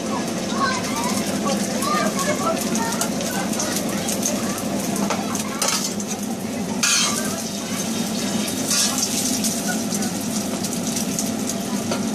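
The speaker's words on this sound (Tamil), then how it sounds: "வெங்காயம் வந்து கோல்டன் ப்ரௌனா வந்தவுடன் 2 முட்டையை அடித்து ஊற்றவும்" Beaten eggs poured into hot oil with golden-brown onions for Sri Lankan kottu sizzle and fry steadily, with clinks of a utensil against the pan and voices talking over the cooking.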